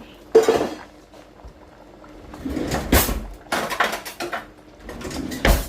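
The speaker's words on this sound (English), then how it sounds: "I'll go ahead and use this big one to turn everything, stir it up, and make sure everything is well mixed." A big spoon stirring Kondre stew in a pot, with scraping and clanking against the metal, bursts of bubbling and lid or utensil knocks, loud and close in a kitchen.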